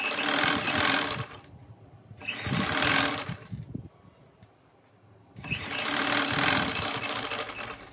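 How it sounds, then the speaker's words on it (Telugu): A sewing machine stitches a cotton jeans top in three close, steady bursts of rapid whirring, separated by quiet pauses. "ఇప్పుడు స్టిచ్చింగ్ చేద్దాం ఈ టాప్ ని."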